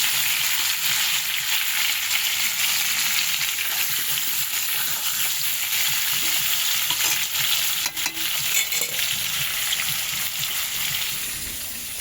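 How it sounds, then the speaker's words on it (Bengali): Food frying in a pan until it turns reddish, a steady close sizzle with stirring scrapes running the whole time, easing off slightly near the end. "করে লাল লাল করে একটু ভেজে নেব"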